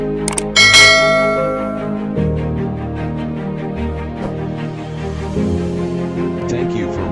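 A bright notification bell chime rings once near the start, short and ringing, then gives way to steady background music with a voice running underneath.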